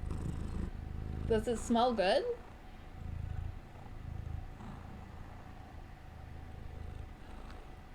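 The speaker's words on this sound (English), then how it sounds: "Yay! We're purring!" A pet cat purrs and sniffs at a close microphone, giving a low rumbling purr and short snuffling breaths. Someone speaks briefly over the start, and the purring then continues faintly on its own.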